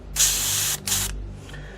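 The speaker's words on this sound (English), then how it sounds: "A lot too much paint I'm using, so I'm going to spray that out." A Grex airbrush sprays out excess black model paint in two loud, steady hissing bursts, close up, followed by a fainter, shorter puff.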